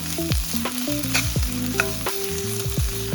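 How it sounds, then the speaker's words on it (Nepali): Chopped green chilli, ginger and garlic fry in a pan for Nepali-style maas dal, giving a close, continuous sizzle with crackling pops and a few tonal scraping sounds throughout. "अदुवा लसुन चाहिँ गोलभेडा राख्नुभन्दा अगाडि राम्ररी भुट्नुपर्छ।"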